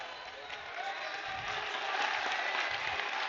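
A high school basketball crowd at a Pleasant Grove versus Cyprus game applauding, a steady broad roar of clapping with some cheering that swells slightly toward the end, a voice faintly audible underneath.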